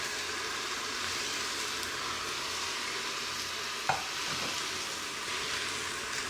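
A kitchen robot stir fry machine stirs and fries peppers in a steady, continuous sizzle with a faint scraping motion throughout, joined by one brief clack near the end.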